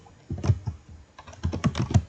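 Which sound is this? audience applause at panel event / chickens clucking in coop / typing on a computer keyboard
typing on a computer keyboard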